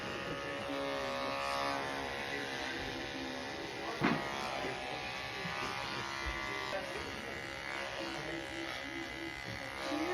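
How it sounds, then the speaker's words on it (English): Electric clippers shave a dog's abdomen from sternum to pubis in preparation for a spay, giving a steady close buzz for the whole stretch, with a brief bump partway through. "For abdomen prep, you want to shave from the sternum to the base of the pubis."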